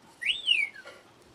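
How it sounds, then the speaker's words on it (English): A single high whistling tone from a makeup set rises then glides downward for about half a second, close and moderately loud, with no talking over it. "that whistle noise is my makeup set. It seems to make noise"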